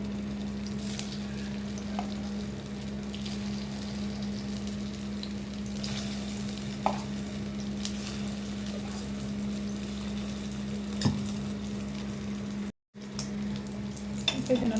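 Egg and cauliflower batter frying in the oiled cups of a paniyaram pan for a Chettinad egg dish, giving a quiet, continuous sizzle over a low steady hum, with a brief dropout near the end.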